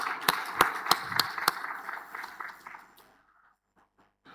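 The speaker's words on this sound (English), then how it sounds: "Please, let's give him a round of applause." An audience at an agriculture science conference applauds, several sharp close claps standing out over a spread of scattered clapping that fades to silence after about three seconds.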